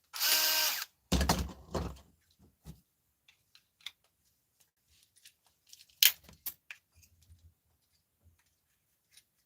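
A power drill whirs in two short, loud bursts as it works at stubborn screws, followed by quieter clicks and rattles of the tool and screws.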